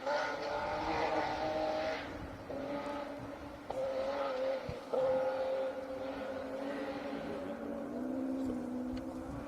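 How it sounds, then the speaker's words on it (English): Porsche 911 rally car pushed hard along a stage of the Anglo Caledonian Rally, its engine note rising and falling through gear changes at moderate distance, with faint commentary-like voices in the background. "Seb really pushing that Porsche 911."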